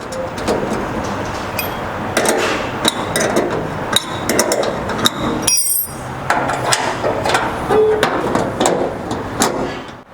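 Metal clinks and taps ring out as a nut is tightened onto the strap of a rear top-fill gas tank on a 1963–72 Chevy or GMC truck. Irregular, close hammer-like knocks and ratcheting clatter repeat throughout, with no voices.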